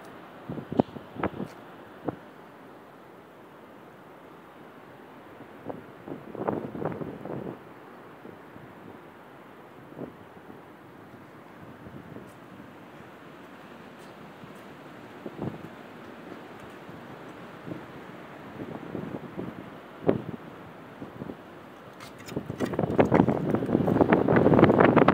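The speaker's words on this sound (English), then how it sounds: "Windy right here." Gusty wind buffets the microphone in bursts, quieter stretches between, building to a stronger rush near the end, at the Penobscot Building in Detroit, Michigan.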